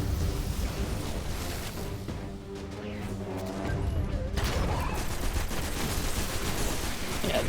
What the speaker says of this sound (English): the assault rifles just feel really nice now